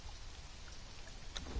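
Steady rain falls in the game Conan Exiles, a soft, even hiss of drops on surfaces with no speech, a brief brighter tap near the end.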